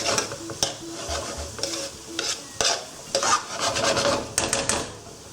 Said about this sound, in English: Just want to soften the onions until they go transparent.